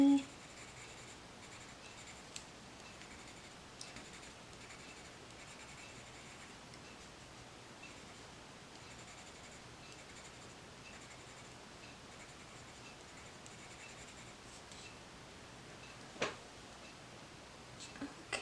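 Colored pencil scribbles on paper while shading feathers on a bird's tummy, a faint, continuous soft scratching heard up close, with a few light taps.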